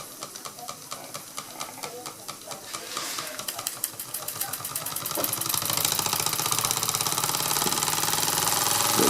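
A Bing upright toy steam engine nearly a century old runs slowly just after repairs, its rapid mechanical ticking and chuffing speeding up into a steady, louder beat with a hiss of steam.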